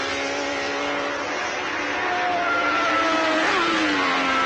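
Giacomo Agostini's MV Agusta racing motorcycle engine revving loudly and steadily, its high-pitched tone rising toward the end as it accelerates, heard alone without talk.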